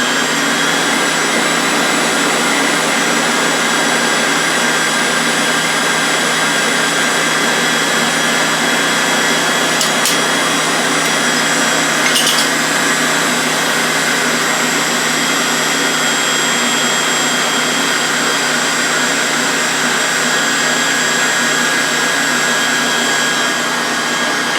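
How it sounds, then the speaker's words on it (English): A Ninja blender mixing cake batter for a pineapple upside-down cake, a loud, steady high-pitched motor whine running unbroken for over twenty seconds, close up, with no talk. "this is the Ninja I'm mixing it with, and I'm going to hit mix. It's loud"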